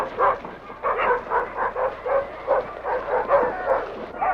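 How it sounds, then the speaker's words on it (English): Sled dogs on the Yukon trail bark and yip in quick, repeated bursts before pulling. The excited, overlapping calls come from fairly close by. "The dogs spend most of their lives chained to a stake, so when they get a chance to pull,"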